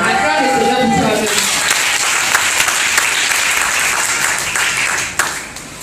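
Church congregation at a French-language Sunday service applauding and acclaiming the Lord: steady, loud clapping from a full room with voices mixed in, fading near the end.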